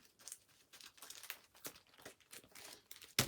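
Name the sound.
shuffling cards of a tabletop game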